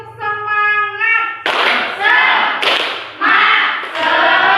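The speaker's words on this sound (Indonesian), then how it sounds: "1 kali tepuk semangat." A school class of grade 7B students gives a single loud unison clap of encouragement, ringing out after a teacher's spoken count, followed by further sharp group claps and shouts close by.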